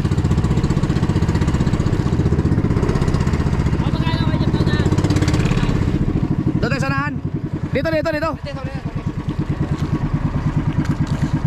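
A boat motor runs loud and close in a steady rapid chug during night spearfishing, with people shouting briefly over it and the engine briefly dipping before carrying on.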